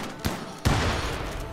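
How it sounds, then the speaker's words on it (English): Hunted animals in RimWorld burst apart in two sharp explosive pops, a small one followed quickly by a louder blast that leaves a rough, sustained crackle. "they explode when you hunt them"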